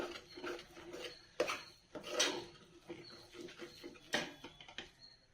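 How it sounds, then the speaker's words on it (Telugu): Ragi flour is stirred with foxtail millet in a pot, giving soft, irregular scraping and rubbing strokes of a spoon against the pot, quiet and close with gaps between strokes. "దీన్నంతా బాగా కలుపుతున్నాను."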